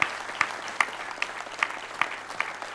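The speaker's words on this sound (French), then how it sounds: "encore des applaudissements pour la Sarthe" A few people at the 15th-anniversary live celebration of the Au Bonheur de Nacre shop clap for the Sarthe in a slow, steady rhythm, each clap sharp and spaced apart over a low hum.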